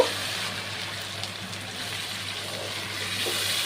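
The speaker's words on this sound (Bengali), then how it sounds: "আর এবার আমি জল অ্যাড করব।" Water pours into a cooking pan over a fried cashew and poppy-seed paste, a steady soft gushing hiss that holds evenly throughout without talk.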